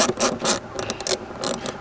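A ratchet on a 7mm fitting loosens a fastener on the airbox of a Seat Leon Cupra 280 in short bursts of sharp clicking. The bursts are close and uneven, with brief gaps between them, and no voices.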